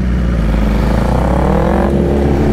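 A Z920 BS6 motorcycle engine roars loudly and continuously close by, its pitch climbing steadily as it revs, with no voices.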